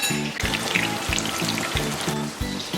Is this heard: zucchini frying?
yes